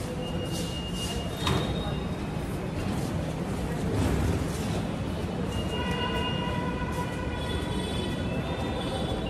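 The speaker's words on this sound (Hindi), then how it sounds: "मेट्रो हमारी आ गई है" A metro train rumbles into a busy underground station in Ahmedabad, with broadband rushing noise, faint brake squeals and a steady hum, while people talk in the background.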